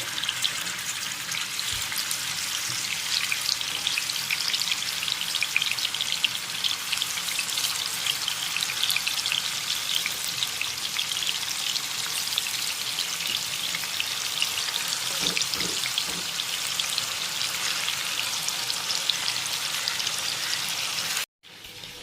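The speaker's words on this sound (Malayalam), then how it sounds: "ഇപ്പോൾ നമ്മൾ ചിക്കൻ വറുത്തെടുക്കാൻ അടുപ്പിൽ വെച്ചിരിക്കുകയാണ്" Loud, steady sizzling of chicken frying in hot oil continues without pause, with a few faint clinks; no one speaks.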